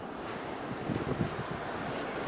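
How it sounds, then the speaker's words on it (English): Steady wind blows outdoors beside a horizontal beehive in March, a continuous broadband rush with slight gusting swells and buffeting on the microphone, and no voices. "Oh, here comes some wind."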